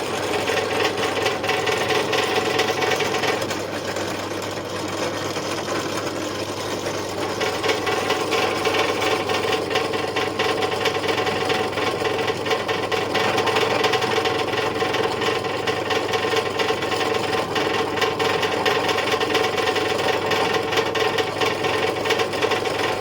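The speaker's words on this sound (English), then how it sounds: "all I'm trying to do really is drill" A drill bores through a model locomotive's buffer beam to clear bolts, a steady, loud whirring grind that runs continuously without pause, close up and alone.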